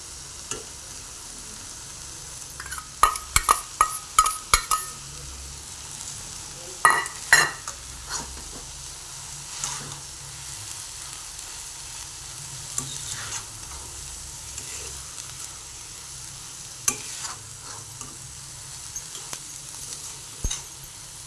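A banana stem and cowpea side dish being stirred in a pan brings sharp, uneven clinks and scrapes of a spoon against metal over a low, faint sizzle, in bursts with quiet gaps and no talking.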